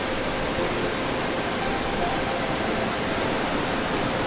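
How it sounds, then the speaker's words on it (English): A cascading waterfall flowing between bamboo trees in northern Thailand, a steady dense rush of falling water, loud and unbroken, with no voices. "there's actually a beautiful cascading waterfall flowing in between them"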